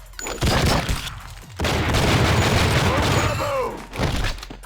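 Gunfire in the video game True Crime: Streets of LA, dense rapid shooting with heavy thuds and booms in two long loud stretches, while someone talks over it.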